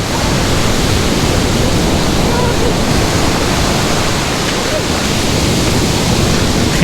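Ocean waves at a resort beach in Baler, Philippines, give a loud, continuous broadband roar of surf, steady throughout with no distinct breaks between waves.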